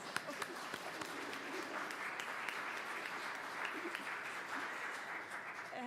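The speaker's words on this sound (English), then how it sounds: "I'm going to ask you all to give a round of applause." A church congregation on Madeline Island gives a steady round of applause, dense continuous clapping from a room full of people filling the whole stretch.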